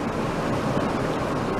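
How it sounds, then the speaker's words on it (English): A creek pours out into a river, a steady broadband rush of flowing water, loud and continuous, with some wind buffeting the microphone. "And the creek is pouring out right there."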